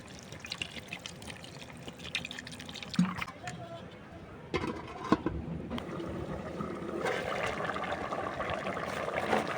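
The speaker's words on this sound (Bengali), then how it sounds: "পানি দিয়ে দিই" Water poured into a pot of chicken curry with potatoes and capsicum, a continuous splashing pour with drips that swells louder toward the end, under a voice speaking nearby.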